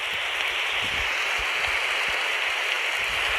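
Rain in the video game 99 Nights in the Forest: a steady, dense hiss of falling rain with faint patters, constant throughout.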